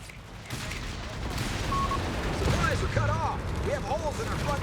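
Anti-tank gun fire in a Company of Heroes 3 multiplayer battle: bursts of booming shots and crackling gunfire amid a dense battle soundscape, with a voice talking over it.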